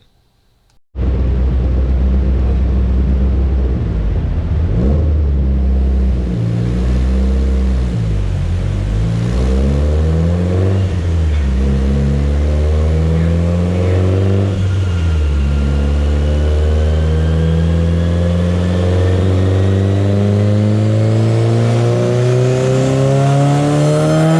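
A turbocharged 2.2-litre Mitsubishi Lancer Evolution VIII engine revs up loudly and close, pitch climbing and dipping through several throttle blips before a long rising pull with a whining turbo.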